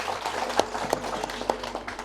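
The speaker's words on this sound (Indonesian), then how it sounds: "Tepuk tangan sekali lagi untuk mereka." An audience claps at a welcoming event in Nagekeo, a dense, steady patter of many hands with a few sharper claps standing out over a moderate, roomy background.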